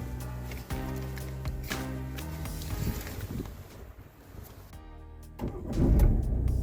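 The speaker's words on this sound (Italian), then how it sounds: "Messo in moto la macchina" A 2017 Peugeot 3008 1.6 petrol engine cranking and catching, a steady low idle hum with a brief electrical whir, then a louder rev near the end, close up with no talk.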